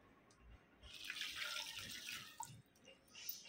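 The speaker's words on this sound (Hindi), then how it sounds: "अभी इसमें 1 लीटर पानी डालेंगे" Water poured from a tap or vessel into a pot of dal while cooking, a continuous soft splashing and trickling that swells in the middle and tapers off, fairly quiet and heard alone.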